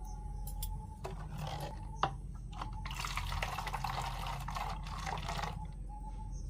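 Water sloshes and runs while plastic bottles are rinsed clean, a steady close wash of liquid with swirling bursts in the middle and a single sharp knock, no talking.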